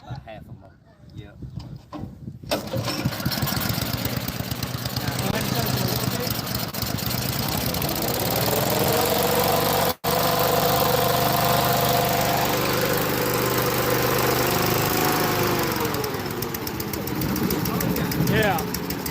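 A fire department fan engine mounted on a boat starts up after a brief quiet moment and runs steadily at a loud, droning idle, while people talk over it.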